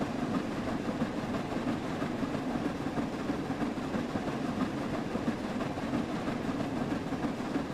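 A Class 801 train runs on the East Coast Main Line in Train Sim World 4, a steady broadband rumble of engine and wheels on track, continuous and even throughout with no speech.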